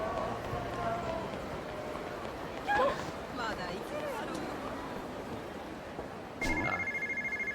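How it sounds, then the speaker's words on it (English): A payphone rings in Yakuza 0, a short electronic ringing tone near the end, after a stretch of game background sound and footsteps. "Found a payphone."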